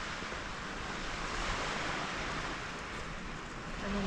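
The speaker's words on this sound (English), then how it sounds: "I hope you like the sound of the sea crashing against the beach," Sea waves wash steadily against the beach at Port de Soller, Mallorca, as a constant broadband surf roar with some wind noise, moderately loud and close throughout, with no speech.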